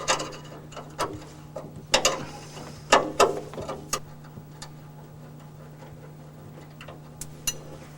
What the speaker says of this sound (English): Remove the bolt from the top of the handbrake lever